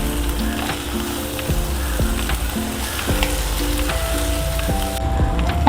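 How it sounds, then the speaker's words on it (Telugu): Egg sizzling and frying in a pan for a gokarakaya egg breakfast curry, a steady close crackle with a few light utensil taps and a faint tonal hum underneath, no talking. "మంచిగా ఎగ్ కూడా మంచిగా ఫ్రై అయిపోయింది."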